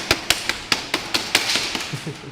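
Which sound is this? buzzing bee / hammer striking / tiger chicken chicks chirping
hammer striking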